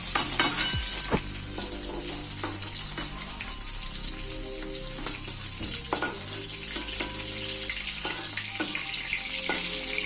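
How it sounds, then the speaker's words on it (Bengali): Cauliflower florets frying in a pan until reddish-brown, a loud continuous close sizzle with spatula scrapes and stirring knocks, no talk. "আর এদিকে আমাদের ফুলকপিটা লাল লাল করে ভাজা হয়ে গেছে"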